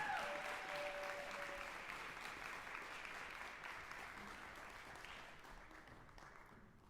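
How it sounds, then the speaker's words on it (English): A concert crowd keeps clapping for a youth jazz ensemble as it sets up onstage, a steady wash of many hands that slowly fades in level, with a short whistle at the start. "Keep it going until they're all set up."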